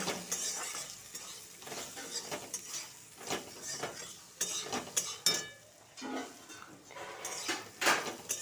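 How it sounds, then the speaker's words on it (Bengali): Turmeric and cumin powder being stir-fried with fried potatoes in a pan, with repeated scraping and stirring clatter over a faint sizzle, close and steady with no talking. "এক চামচ হলুদ গুঁড়ো আর এক চামচ জিরে গুঁড়ো দিয়ে আবার ভালো করে কষিয়ে নেব"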